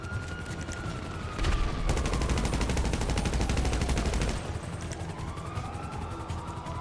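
Gunfire and police sirens in the video game Grand Theft Auto V: a rapid burst of automatic shots over wailing sirens, loud and continuous for a few seconds, then sirens carry on.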